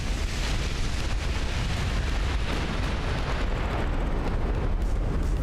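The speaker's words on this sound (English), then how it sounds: "there's a torpedo detonation on Wolfsburg" A torpedo detonation against a warship in the naval game Ultimate Admiral: Dreadnoughts, heard as a sustained heavy roaring blast with continuous rumble and spray-like hiss, loud and unbroken throughout.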